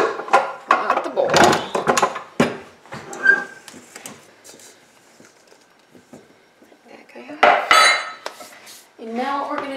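Clinks and clatters ring out as a mixing bowl of jalapeno bagel dough is pulled from a stand mixer, with short metallic knocks and scrapes spread across the moment and a voice speaking between them.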